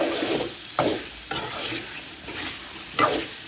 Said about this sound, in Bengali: একটু ভাজা ভাজা হয়ে গেলে তারপর দুধটা দিয়ে দেবো